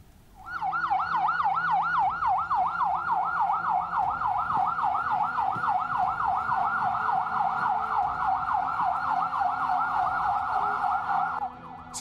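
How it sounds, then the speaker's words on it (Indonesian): An ambulance siren wails in a fast, steady up-and-down sweep, loud and continuous for about eleven seconds, as ambulances carry food poisoning victims to an emergency post at a school in West Bandung. "sejumlah mobil ambulans hilir mudik bawa korban ke posko darurat"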